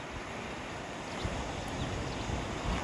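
Flowing river water in the Gir forest after rain, a broad steady rushing wash close to the microphone, mixed with wind buffeting and no voices.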